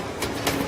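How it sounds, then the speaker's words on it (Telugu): A train arriving at a railway station in a film scene makes a brief, faint, steady rumbling wash of rolling noise with no voices. "ట్రైన్ వచ్చినట్టుంది"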